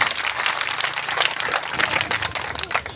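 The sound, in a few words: crowd applauding at a farmers' protest rally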